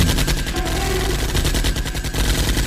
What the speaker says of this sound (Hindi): ऑर्डर मिलते ही फौजियों ने अपनी मशीन गनों से ज़ॉम्बीज़ पर फायरिंग शुरू कर दी।